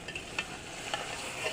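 Aloo baingan salan being stirred in a pot, with light scraping and soft clinks of the spoon over a faint sizzle, a few brief strokes in quick succession.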